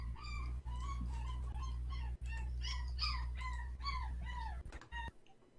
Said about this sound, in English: Now I'm hearing this dog in the background yelp.